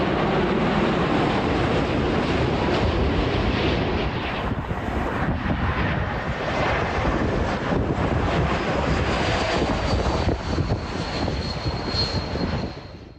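Loud jet aircraft roaring low over Myrtle Avenue near Heathrow Airport in London, a sustained broadband rumble that swells and lingers throughout, close and overpowering with no other sounds on top.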